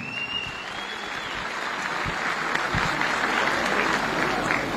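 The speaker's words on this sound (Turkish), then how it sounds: "ben bu alkışı kabul ederim" Audience applause at a project launch event in Mamak, a dense steady wash of clapping filling the room for about five seconds, with a faint tone early on and no clear speech.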